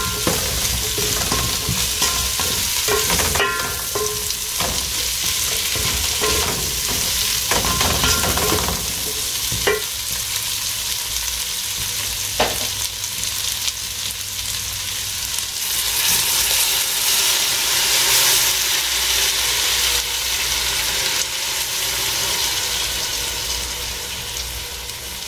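Pumpkin puree cooks in a pan for a Kenyan dinner, with a steady broadband sizzle and repeated scraping stirs running throughout at close range, no voices present.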